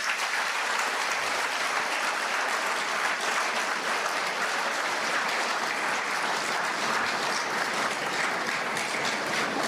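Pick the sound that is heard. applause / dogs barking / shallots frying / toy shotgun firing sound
applause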